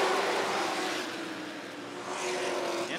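Sportsman race cars at Rockford Speedway pull away on a green-flag restart, a dense roar of several engines revving together at moderate distance, rising and swelling toward the end.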